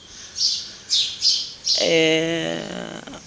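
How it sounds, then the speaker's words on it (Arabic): A few sharp sparrow chirps in the morning, then a longer squawking call close by, with no other sounds around it. "أنا بحب أسجل أو أصور على صوت العصافير على الصبح كده"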